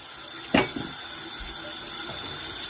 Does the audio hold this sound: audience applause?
no